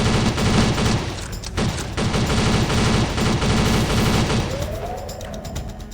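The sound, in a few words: gunfire shooting the big robot boss, DIRT Project video game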